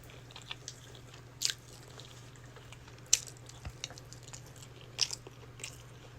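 Someone chewing roasted turkey wing, a few crunchy bites spaced a second or two apart, close and faint over a low steady hum, with no talking.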